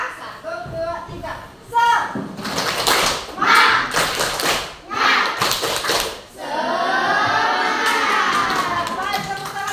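A classroom of children performs a rhythmic clapping chant in unison, bursts of claps and taps alternating with chanted voices, then a sustained stretch of group clapping and crowd noise toward the end.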